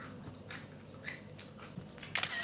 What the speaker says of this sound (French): Vous entendez ce croustillant?